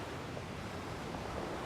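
Beach backwash drags rocks and large pebbles over one another as a wave pulls back out to sea, a steady close hissing rush.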